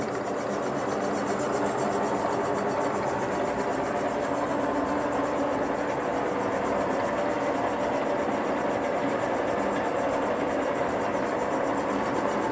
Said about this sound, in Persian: الان در حال برقو شدن هست و داره برقو میشه